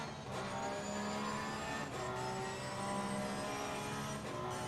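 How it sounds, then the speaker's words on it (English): Race car exhaust droning steadily in the Assetto Corsa Competizione racing game, a loud continuous engine note with dense harmonics and a couple of brief shift-like dips, with no talk over it. "It's actually the exhaust."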